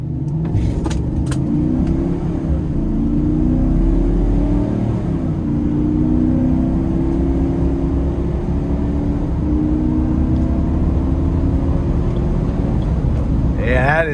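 A Chevrolet Express 2500 nine-passenger conversion van's 6.6-liter gas V8 pulling hard through a turn, a deep, steady low rumble that rises slightly in pitch as it accelerates, loud and continuous from inside the cabin.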